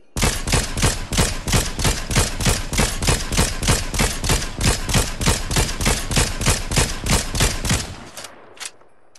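Rapid, steady automatic weapon fire in Fortnite, about twenty loud evenly spaced shots in an unbroken burst that cuts off abruptly, followed by a brief faint click, close and with no voices.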